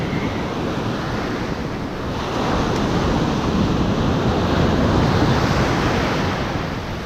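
Ocean surf rolls in on a foggy morning at a fishing beach: a continuous broadband wash of breaking waves with wind buffeting the microphone, swelling slightly louder partway through, with no voices.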